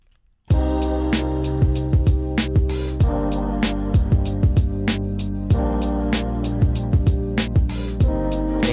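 A hip-hop beat plays its verse section with a melodic hook lead layered on top, driven by steady punchy drums and a deep bassline. It loops continuously and loudly after a brief silent start.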